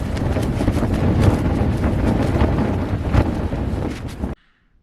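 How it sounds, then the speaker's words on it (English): Strong, steady wind buffets the microphone on Slieve Binnian mountain in autumn, a loud continuous roar with gusty swells that cuts off abruptly into near silence at the end. "That's more than a 10-mile-an-hour wind."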